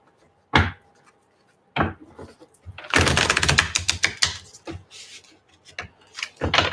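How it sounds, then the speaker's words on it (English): Tarot cards are shuffled up close: a few sharp slaps, then a dense burst of riffling and rubbing, followed by scattered taps. "One more shuffle."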